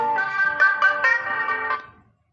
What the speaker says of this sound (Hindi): फोन आ रहा है, 1 सेकंड